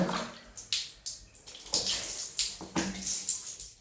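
Water poured to rinse a child's hair at bath time: a series of close splashing gushes in irregular bursts, roughly five or six pours with brief drips between, no talk.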